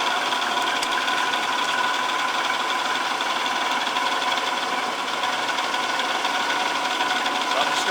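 A Cincinnati No. 105-122 rise-and-fall production milling machine runs with a steady, dense mechanical whir and hum, loud and close, unchanging throughout.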